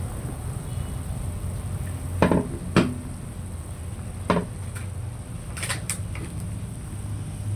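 A metal cooking pot being covered with its lid while mushroom broth cooks, giving a few sharp clanks and knocks spaced over several seconds against a steady low background hum.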